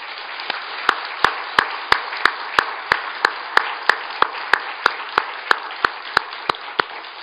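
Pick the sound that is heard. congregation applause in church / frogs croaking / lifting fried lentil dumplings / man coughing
congregation applause in church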